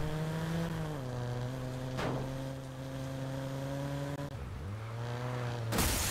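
Car engine in the PC game Watch Dogs, a throaty, steady drone that shifts pitch through several gear changes, heard alone without talk.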